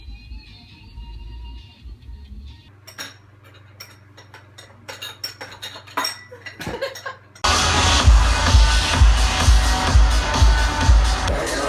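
Dishes being washed give sparse, sharp clinks and clatters over several seconds, then a loud, steady rush of noise takes over.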